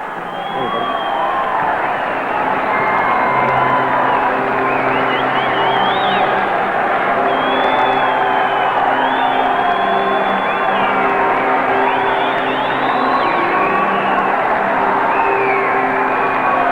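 Dense, loud crowd noise fills a rugby league grand final ground, Gordon versus Norths in 1998, with cheering, whoops and shouting rising and falling steadily throughout with no break.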